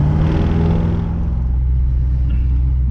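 A Chevy car accelerates as it passes under a highway overpass, producing a loud, close, low engine rumble with a throaty roar that gradually settles.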